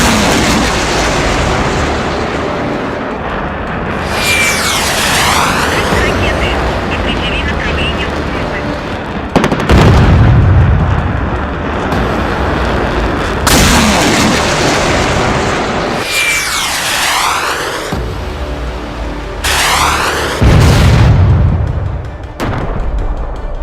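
Missile launches and heavy explosions in a Phalanx CIWS combat simulation game, with SM-2 Block 3 surface-to-air missile fire: loud booming bursts and rising whooshing sweeps recur several times over continuous background noise, with voices heard in between.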